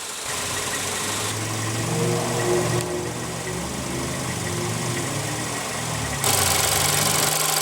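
A Volkswagen Golf SportWagen's 1.8-liter turbocharged four-cylinder engine idles, a steady, loud mechanical hum and drone with a slight rise near the end, heard close with no talking.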